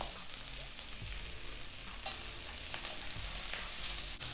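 Onion and capsicum frying for chicken manchurian give a steady, even sizzle with faint stirring scrapes now and then, close and continuous, with no voices.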